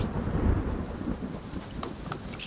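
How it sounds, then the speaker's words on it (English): Steady rain and low rolling thunder from a stormy night in the White Noise 2 horror game, a continuous wash of downpour with deep rumbles throughout, no voices. "Oh, it's raining?"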